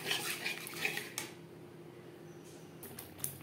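A utensil clinks and scrapes against a pan as spices are mixed with sour yogurt over a low gas flame, with brief metallic taps early, then a quiet stretch and a few faint knocks.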